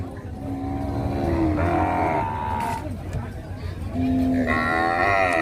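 Cattle moo repeatedly at a busy livestock market in Nong Kung, Na Chueak, with long, loud, close calls from several animals overlapping against a steady crowd murmur.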